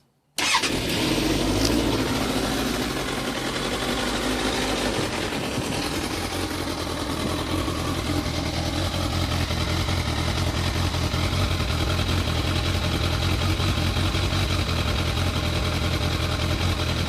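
A Suzuki GSX650F motorcycle with its stock exhaust cranks and fires up from cold, then settles into a steady, loud, close-up idle that holds for the rest of the clip.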